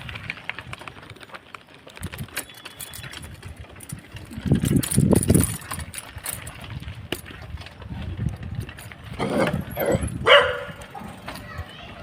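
Dogs on a village street bark in a few loud bursts, clustered midway and again near the end, while an engine idles nearby and people talk in the background.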